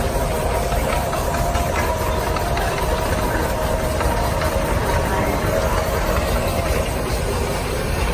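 Small model tractor engine running steadily at idle, a continuous rough chugging rumble with a faint high whine above it.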